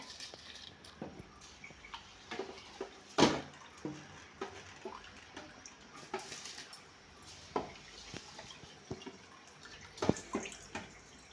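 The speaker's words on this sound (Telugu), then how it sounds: "ఎసురు అయితే మంచిగా మరిగిపోయినాయి" Water for bagara rice boiling in a pot on the stove, a soft, steady bubbling with scattered sharper pops and ticks, quiet and close, with no voices.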